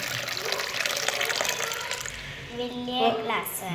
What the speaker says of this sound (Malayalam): രണ്ട് കപ്പ് വെള്ളം ഒഴിച്ചു കൊടുക്കാം